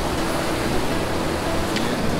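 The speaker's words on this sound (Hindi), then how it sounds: "पानी कितने शोरों में जा रहा है ये देखें।" Steady, loud roar of a rushing glacial river near Minimarg and Domel in the Skardu region, a dense continuous rumble with no breaks, heard up close.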